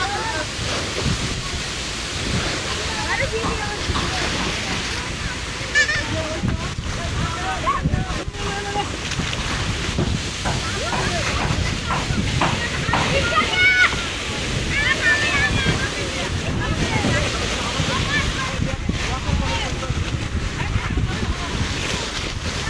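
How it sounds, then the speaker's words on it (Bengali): Strong waves and gusting wind batter a boat. The close, constant rush of water and buffeting wind noise goes on throughout, with voices heard speaking over it. "এত জোরে ঢেউ উঠতেছে, এত জোরে বাতাস উঠতেছে"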